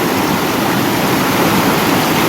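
Fast water pours through a rain-fed village stream at night, a steady, loud hissing rush filling the air evenly from start to finish, with no talking.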